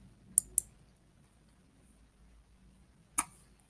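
Computer mouse clicks while working in Google Classroom: two quick, close clicks, a pause, then one more click in an otherwise quiet room.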